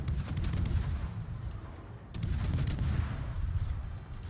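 Naval gunfire from World of Warships, an Ostergotland firing on a Kitakaze destroyer: dense, rumbling volleys of shots and booms pile up continuously, with a fresh burst of heavy blasts about halfway through.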